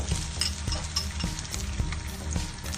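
Eggs with red onion sizzle and crackle steadily in a hot frying pan while a utensil stirs and scrapes through them, a close, continuous frying hiss.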